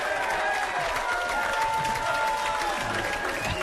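A studio audience applauds and cheers to welcome guest Aaron Jones, a dense, steady burst of clapping with whoops, close and loud throughout.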